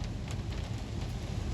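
Storm wind rushing steadily as a front arrives with rain starting, a broad continuous roar with no voices.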